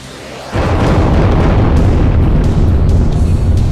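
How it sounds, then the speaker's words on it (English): An airstrike explosion sound effect, a sudden deep boom that swells into a loud, sustained rumbling roar and holds to the end, with no voices over it. "You might want to call in the airstrike."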